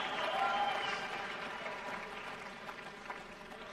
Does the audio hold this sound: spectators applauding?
yes